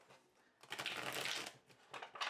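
A limited edition gold-gilded Smith-Waite tarot deck being shuffled by hand, a quiet riffle followed by a dense burst of papery card flutter for about a second, then a softer pause and a second brief flurry, close and alone.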